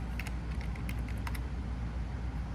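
Quick bursts of keystrokes on a computer keyboard while entering an item into a ticket, light clicking clustered in the first second and a half over a steady low background hum.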